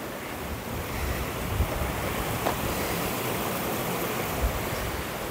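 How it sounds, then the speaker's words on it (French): Water rushes steadily past in a village river, a constant broadband wash heard close and fairly loud, with some wind buffeting mixed in and no voices. "J'entends l'eau couler, il doit y avoir la rivière."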